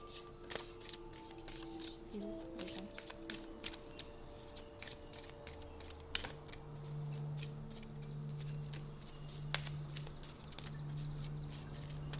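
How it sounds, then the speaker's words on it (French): Tarot cards being shuffled and drawn, a long run of soft, quick riffling and flicking taps close by, fairly quiet and steady throughout with a low hum underneath and no talking. "Je vais tirer des cartes, des messages de vos êtres chers."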